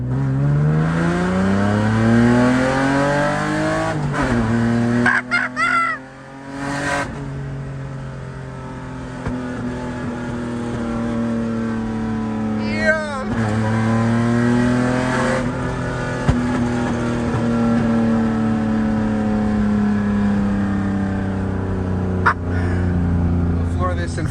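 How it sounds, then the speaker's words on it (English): A six-speed BMW E36 M3 accelerates hard in second gear on a test drive, engine droning and rising in pitch through long pulls with brief shifts and lifts, heard from inside with people talking over it. "All right, look, Jay, I'm in second gear, all right?"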